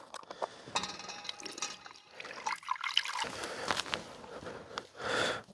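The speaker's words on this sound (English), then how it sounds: "Beef broth." Beef broth pours into a cooking pot at a campsite, a soft liquid trickle and splash with scattered clinks, faint and close, ending in a brief fuller gush.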